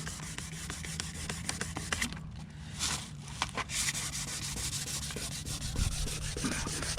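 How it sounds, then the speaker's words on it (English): Steady hand sanding of a fiberglass jet ski hull with 400 grit sandpaper, close and continuous rasping strokes with a brief pause midway. "I've got some 400 sandpaper."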